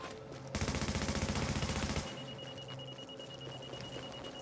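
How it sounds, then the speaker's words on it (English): Automatic weapon fire from The Division video game, a rapid steady burst of shots lasting about a second and a half, then a quieter tail with a thin electronic tone running underneath. "And I'm just firing to build up some charge"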